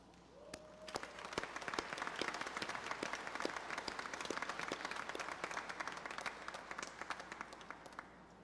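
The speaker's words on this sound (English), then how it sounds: "Join me as we applaud the graduating class." Sustained applause from a crowd at a community college graduation ceremony honoring the graduating class, steady dense clapping with sharp individual claps throughout, holding at an even level for several seconds before easing slightly.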